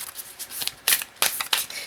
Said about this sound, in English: The card fell. It fell like a bad shuffle.